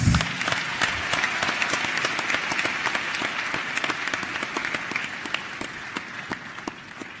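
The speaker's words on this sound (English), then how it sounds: "we can give him another thunderous round of applause." Loud, sustained applause from a conference audience at a youth summit in Africa, dense clapping with sharper individual claps standing out, continuing steadily for several seconds without speech.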